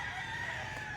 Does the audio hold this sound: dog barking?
no